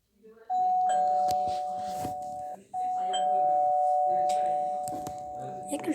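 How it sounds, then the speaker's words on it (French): Doorbell in the Roblox video game, a sustained electronic ringing tone that sounds twice in quick succession, with a short gap between, while people talk in the background. "J'ai sonné grâce à la petite clochette."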